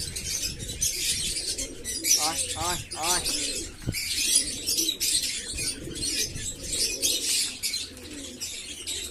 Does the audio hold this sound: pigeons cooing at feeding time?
yes